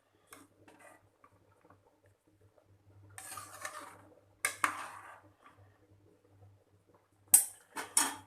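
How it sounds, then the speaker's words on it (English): Rice being stirred slowly in a pot for mutton biryani, giving faint, quiet scraping and light clinks of a utensil against the pot in a few short bursts amid near silence. "Go ahead and add the complete rice. Stir it well. Stir it very slowly because you don't want any of the grains to break."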